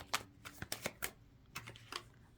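Tarot cards shuffled in several quick bursts of riffling and slapping, close by and fairly quiet, with short pauses between each burst.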